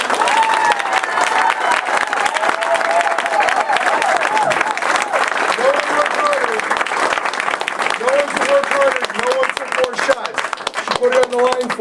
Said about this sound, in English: I want everybody to give it applause